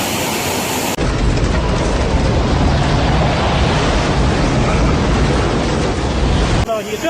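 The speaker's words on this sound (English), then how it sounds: "Streets turned to rivers as stormwater rushed through residential zones." Stormwater floods through residential streets in Sichuan, China, around Chengdu and Danba, as a dense, steady roar of rushing water that stays loud and unbroken for several seconds before cutting off abruptly.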